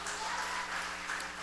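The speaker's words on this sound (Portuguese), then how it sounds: "Dá um aplauso para o Senhor aí," A church congregation claps in a brief, steady wash of applause, dense but fairly faint, with no distinct voices.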